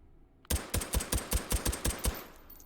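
A stocked, suppressed AMag pistol fires in the H3VR virtual reality shooting game: about eight evenly spaced shots in a quick rhythmic burst, close and fairly loud, with no talking.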